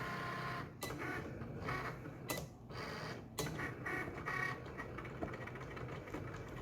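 A Cricut cutting machine slices a vinyl decal, giving a steady mechanical whir with sharp clicks and short carriage bursts at a close, even level throughout.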